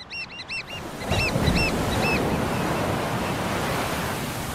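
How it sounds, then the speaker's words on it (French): Powerful ocean waves break on the shore in a steady, loud roar of surf, with birds calling at the start. "Les vagues sont puissantes et une fraction de seconde peut coûter cher à un oiseau pris au piège des vagues qui déferlent."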